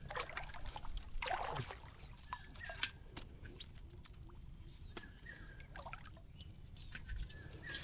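A boat moving on water in the Sundarbans, heard faintly as soft splashes and trickles against a steady high insect drone and occasional distant bird calls.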